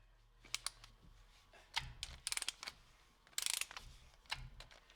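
A Durofix G12 12V extended cordless ratchet runs in short bursts of whirring and clicking, faint and close, with quiet mechanical rattles between the bursts.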